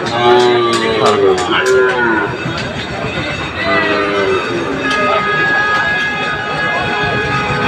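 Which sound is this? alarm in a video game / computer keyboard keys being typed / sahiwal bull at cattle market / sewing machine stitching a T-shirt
sahiwal bull at cattle market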